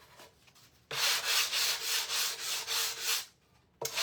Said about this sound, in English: So I'm going to take my sander.